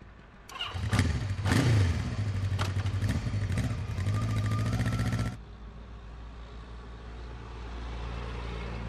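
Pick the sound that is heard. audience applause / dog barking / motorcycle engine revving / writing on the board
motorcycle engine revving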